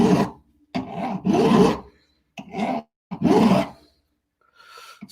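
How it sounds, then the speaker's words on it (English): A metal file rasps across a bronze dagger in five distinct strokes, loud and close, each a harsh grinding scrape separated by brief pauses, with a faint final stroke at the end. "I'm busy filing again."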